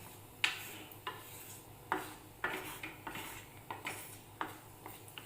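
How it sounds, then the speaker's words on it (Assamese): A spoon scrapes and taps against a pan as cumin seeds are stirred in ghee on a gas stove, with about a dozen soft metallic strokes in a steady rhythm over a faint low hiss. "আমি এটা ভালদৰে লৰাই লম"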